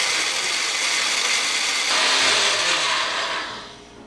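A blender runs at a loud, steady roar for about four seconds, liquefying soaked almonds with water for vanilla almond milk. The pitch lifts slightly midway, then the motor winds down at the end.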